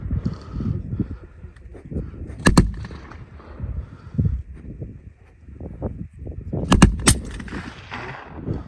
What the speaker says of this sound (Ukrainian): противник активізувався, працює кулемет